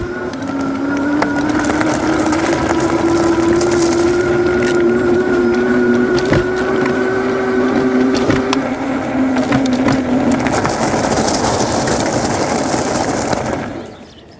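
A Bee Tracer electric bike rolls over gravel, giving a steady crunching road rumble with a rising motor whine throughout, loud and continuous until it cuts off near the end.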